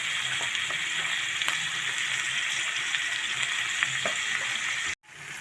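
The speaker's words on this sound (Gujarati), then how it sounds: "હવે આપણે ધીમે ગેસ ઉપર આપણે ટમેટાને ડુંગળીને સળવા દેશું" Tomatoes and onions frying in a pan over a low gas flame, a steady close sizzle with faint stirring scrapes, running continuously before a brief cut near the end.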